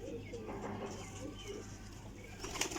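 Breeding pairs of pigeons coo softly from a loft, low and faint, while someone talks over them nearby.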